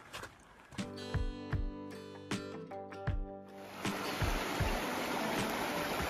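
Near Hidden Falls in Grand Teton National Park, a mountain stream rushes with a steady broadband wash that takes over halfway through, following scattered thumps and tonal sounds.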